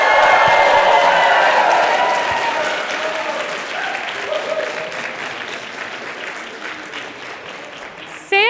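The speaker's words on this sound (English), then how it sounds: "Clap it up for Lawrence Livermore." An audience at a Bay Area research slam event bursts into loud clapping and cheering with whoops, the applause strongest at first and then gradually fading; a voice speaks briefly at the very end.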